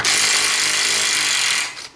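A cordless power tool spins out a bolt with blue threadlocker from a brake disc on a Banshee, one steady, loud, high whirring run of about two seconds that winds down at the end.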